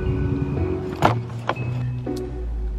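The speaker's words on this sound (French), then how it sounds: "Je vois juste notre voisin qui a allumé sa voiture" A neighbour's car runs nearby at night during a home power outage: a low engine hum under a few sharp clicks and a brief whirring, like a power window, close and moderately loud.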